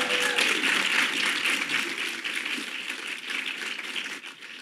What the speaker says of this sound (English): So let's just give that a round of applause